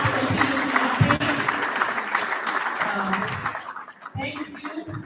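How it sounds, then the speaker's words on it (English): Sustained clapping from a seated audience at a public finance management conference, thick at first and thinning toward the end, with speech heard over it. "clap, continue clapping"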